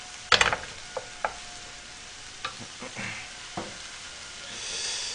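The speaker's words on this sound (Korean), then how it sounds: "자, 그냥 햄 들어갑니다" Ham sizzles in a frying pan for kimchi fried rice, giving a low steady hiss broken by a few sharp pops and clicks of stirring, close and with no talk.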